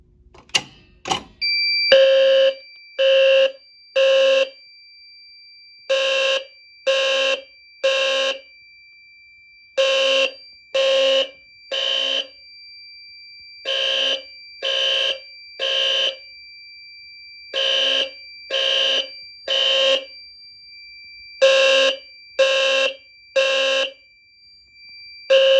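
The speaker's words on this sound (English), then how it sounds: "And the alarm is silenced." A fire alarm panel's horn-strobe sounding during a system test, loud repeated bursts of a harsh electronic buzzing tone in uneven groups of two to four pulses with short gaps, continuing steadily.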